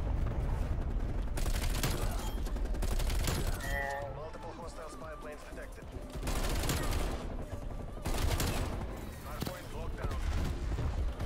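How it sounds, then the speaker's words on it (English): Gunship killstreak fire in Black Ops Cold War pounds out in repeated heavy bursts of cannon and gunfire, loud and close, while a player talks over the barrage. "This is one of the craziest gunships I've ever called into my life."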